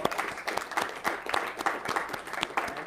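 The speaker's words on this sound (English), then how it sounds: "Give our speakers a round of applause." A lecture audience applauds the speakers after a law society panel on a constitutional challenge to Obamacare, moderate clapping from a room of people, steady and fairly close.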